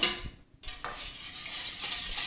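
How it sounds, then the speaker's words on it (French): Pancake batter is whisked in a bowl, a close, continuous scraping and swishing with a brief pause near the start and no talk. "Donc on mélange jusqu'à ce que ce soit homogène"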